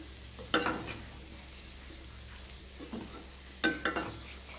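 Chicken pickle mixed with lemon juice being stirred in a pot or bowl, two brief bursts of scraping, mixing strokes near the start and end, with quieter soft stirring between.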